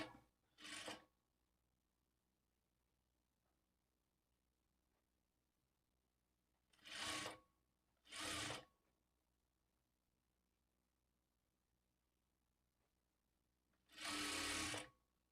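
A sewing machine stitches along a blouse neckline in four short, rapid whirring bursts separated by quiet pauses, laying a second row of stitching over the first.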